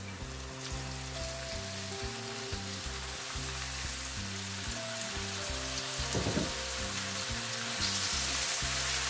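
Chinese pointed gourd (potol) frying in a pan for potol bhaji, a steady sizzle running throughout with a low background hum and a brief louder burst of crackling midway.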